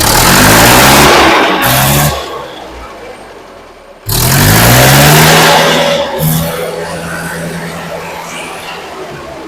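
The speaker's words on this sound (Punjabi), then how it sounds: "ਸਟਾਰਟਿੰਗ ਬਹੁਤ ਸੋਹਣੀ ਆ ਬਾਕੀ ਇੰਜਣ ਦੀ ਆਵਾਜ਼ ਤੋਂ ਬਿਨਾ ਹੋਰ ਕੋਈ ਆਵਾਜ਼ ਨਹੀਂ ਆਉਂਦੀ" A Mahindra 575 DI tractor diesel engine cranks and starts, then runs loudly at a steady idle close by, with a brief break before it fires again and settles into a continuous throb.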